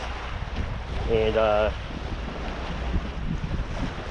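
Ocean waves washing onto a beach in steady wind, a continuous broad rush close to the microphone, with a brief tonal sound partway through and a single spoken word.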